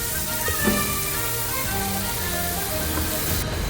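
Chopped tomatoes and fenugreek leaves frying in a pan for mutton curry, a steady close sizzle and crackle throughout with a few soft stirring scrapes and no voices.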